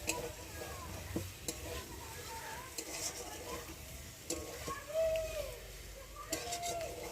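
Spice masala for potato curry being sautéed in a pan, a faint low sizzle with occasional soft scrapes and clinks of a spoon against the pan, heard quietly at close range.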